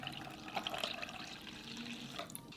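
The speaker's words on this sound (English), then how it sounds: "Pour in the lukewarm chicken stock." Lukewarm chicken stock pours into beaten eggs in a bowl for silky steamed eggs, a faint, continuous liquid trickle with light splashy bursts, quiet and close.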